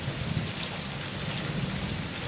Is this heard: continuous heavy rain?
yes